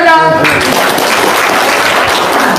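A voice trails off at the start, then an audience at a talk bursts into loud, sustained applause that fills the rest of the moment as a thick, even roar of clapping.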